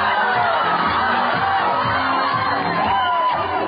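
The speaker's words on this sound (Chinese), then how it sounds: "全场参赛者与观众尖叫声不断" At a line dance competition during a Bay Area Chinese community games event in San Jose, a large crowd of contestants and spectators screams and cheers continuously and loudly, a dense roar of shrill voices.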